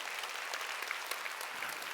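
A church congregation applauding during a Korean sermon at a Jesus-centered church, dense and steady clapping from many people filling the room without a break.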